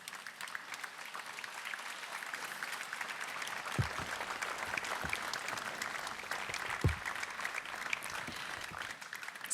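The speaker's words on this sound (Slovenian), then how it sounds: "Zaploskajmo, prosim, še enkrat." An audience at a ceremony in Ljubljana unveiling a bust of Janez Stanovnik applauds in a steady, sustained wash of clapping, a few sharper claps standing out near the middle, with no talking.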